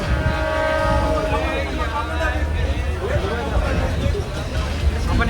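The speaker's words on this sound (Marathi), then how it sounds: "राजस्थानची लोकल ट्रेन आपण पोहोचतो आता खाटू श्यामला." A local train runs through Rajasthan toward Khatu Shyam, its carriages rumbling with a continuous rattle while passengers talk and chatter loudly nearby.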